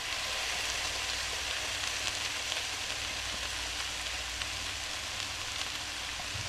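Steady broadband sizzle of vegetables frying in a pan as canned Sloppy Joe mix goes in, a continuous even hiss with no talk.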